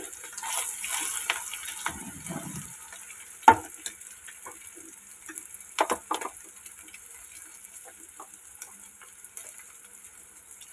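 Hilsa fish and aubergine pieces with turmeric being stirred in a pan: scattered soft scrapes and taps of a spatula against the pan, with a faint sizzle underneath and one sharper knock.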